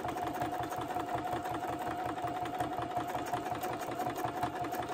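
A Juki sewing machine runs steadily, its rapid rhythmic mechanical clatter continuous and fairly quiet, with a faint hum underneath.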